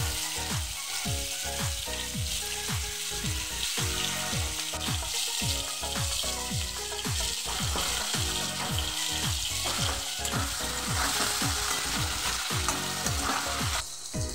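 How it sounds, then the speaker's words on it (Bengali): Potato pieces seasoned with salt and turmeric fry in hot oil in a Bengali home kitchen, giving a loud, steady sizzle throughout with a regular rhythm of stirring and scraping, no voices. "একটু লবণ আর একটু হলুদ দিয়ে দেবো।"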